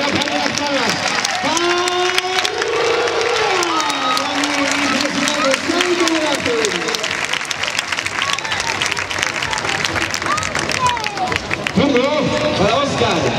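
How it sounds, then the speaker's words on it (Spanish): An audience claps at a bullfighting fiesta in Benidorm, a sustained rattle of many hands under a loud announcer's voice and crowd chatter that keeps going throughout. "Y palmas, palmas, palmas, palmas, palmas, palmas, palmas."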